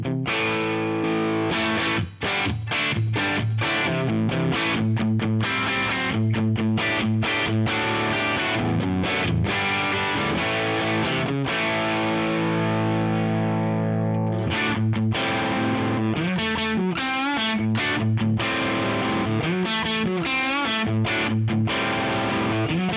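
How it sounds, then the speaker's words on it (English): An electric guitar played through a fat, thick distortion from a transformer preamp with drive, chugging chords and riffs with short stops between, loud and continuous, no talking. "It's like a kind of fat distortion in there."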